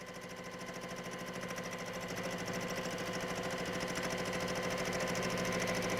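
Sewing machine running steadily while quilting a curved design along the rails of a quilt, a continuous close mechanical whir with rapid needle rhythm that grows slightly louder throughout.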